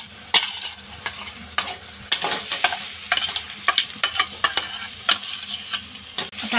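A spoon stirs mashed potatoes into a hot pan seasoned with hing and salt, with soft sizzling under repeated close scraping strokes in an uneven rhythm.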